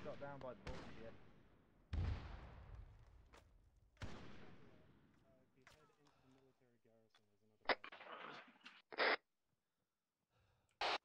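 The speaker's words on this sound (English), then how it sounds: "these mortars, or whatever they're using, they've got us zeroed in" Mortar rounds in Halo 3: ODST land as heavy booming impacts about every two seconds, each trailing a long rumbling decay, followed by sharper blasts and clatter later, with radio voices talking in between.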